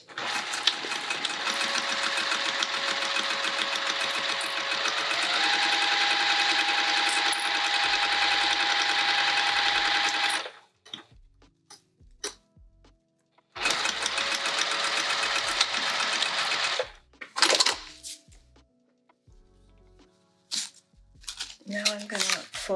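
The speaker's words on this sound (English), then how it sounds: "All right, let's sew this down." A sewing machine stitches a sling bag in two rapid, buzzing runs of about ten and four seconds, close up, then a few short bursts between quiet gaps with light handling noise.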